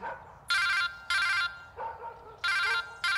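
A telephone rings in a domestic scene from a Russian melodrama, with four loud, evenly spaced electronic ringtone bursts separated by short pauses and no voices.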